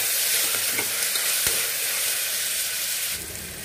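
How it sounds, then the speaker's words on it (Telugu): Chopped onion and green chili frying and being stirred in hot oil for a goat head soup, a steady loud sizzle with scraping stir strokes throughout, no voices. "నెక్స్ట్ ఉల్లిపాయ పచ్చిమిర్చి కలుపుతూ ఫ్రై చేసుకోవాలి."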